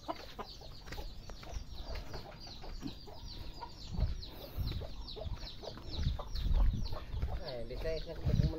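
Chickens cluck repeatedly in a busy outdoor setting, with scattered bird calls and some background voices mixed in.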